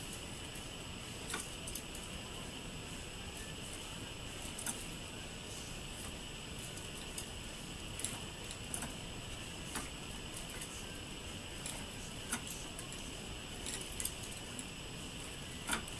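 A hand-spun multi-filar coil winding jig for a Bedini monopole turns with a steady whirring hiss and faint, regular ticks and clicks, close by and fairly quiet, with no talking.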